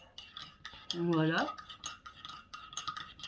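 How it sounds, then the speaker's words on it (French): Cutlery and dishes clink and rattle as a dishwasher is unloaded in a home kitchen, with light metallic scrapes and clatter through the stretch and a brief spoken word over it. "Vider le lave-vaisselle."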